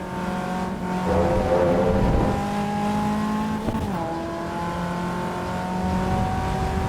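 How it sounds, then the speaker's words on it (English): A race car engine in Assetto Corsa EVO revs steadily at high pitch, rising and dipping as gears change, with a brief tire squeal and no voices. "naturally the engine revving is definitely there"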